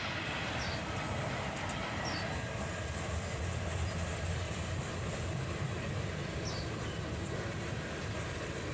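A freight train rolls past near its end, a steady broad rumble of wheels and cars with faint clicking and occasional high squeals, continuous and moderately distant throughout.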